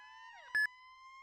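Federal Q siren from the Roblox game ER:LC, a steady electronic tone that dips briefly, then settles into a sustained whine, broken by a short loud click or blip partway through, with no voices.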